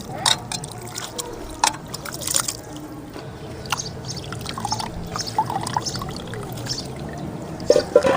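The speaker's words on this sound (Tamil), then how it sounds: "நல்லா இப்படி தண்ணி புழிஞ்சிக்கணும்." Water squeezed by hand out of soaked leftover rice for fermented rice aappam, heard as close, irregular pouring and dribbling with wet squishes over several seconds, with a voice talking in the background.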